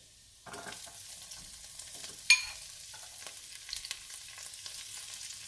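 Garlic and celery sautéing in a hot pan, a steady hissing sizzle that starts suddenly, with a sharp clatter of a spoon partway through and soft stirring scrapes.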